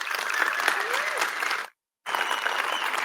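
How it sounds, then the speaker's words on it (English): A conference audience applauds after an opening keynote, a thick, continuous roar of many hands that briefly cuts to silence, then resumes at full strength. "Another round of applause for Lucky Nkosi."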